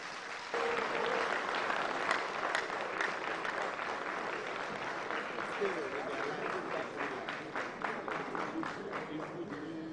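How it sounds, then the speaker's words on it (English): A studio audience applauds with a steady, dense wash of clapping that starts abruptly and holds for several seconds, with a voice speaking faintly underneath. "please, another round of applause for Dr. Richard Banful."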